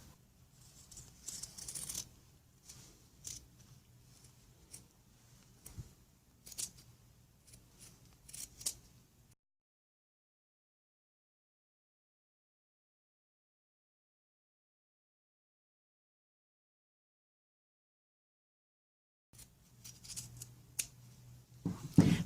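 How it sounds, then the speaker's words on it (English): Scissors snip repeatedly while trimming a suit coat seam and removing old stitching, light irregular cuts and rustles of cloth, broken by a long silent gap before the snipping resumes. "Trim seam, but not too much in case it needs to be let out again in the future, and take out old stitching."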